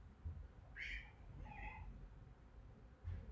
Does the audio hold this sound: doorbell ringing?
no